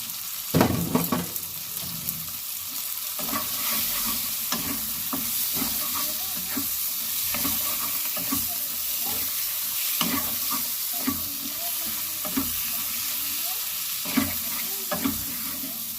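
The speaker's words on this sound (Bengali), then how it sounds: "মশলার সঙ্গে ভালো করে ভেজে নেব চিংড়ি মাছটাকে" Prawns fry in a spicy masala for a prawn biryani, with a steady sizzle and repeated scraping stirs of a spoon against the pan, close and fairly loud throughout.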